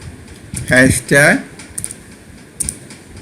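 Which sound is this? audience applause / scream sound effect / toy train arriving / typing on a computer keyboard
typing on a computer keyboard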